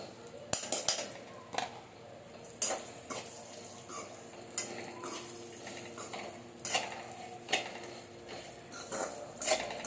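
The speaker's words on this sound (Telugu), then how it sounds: "ఈ సేమియా మొత్తం వేసేస్తున్నాను అందులో" Roasted vermicelli, fried in ghee for a sweet semiya dish, is tipped into a pan and stirred, giving repeated close spoon-on-metal scrapes and clinks over a faint background sizzle.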